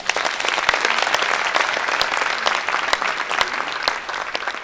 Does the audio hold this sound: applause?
yes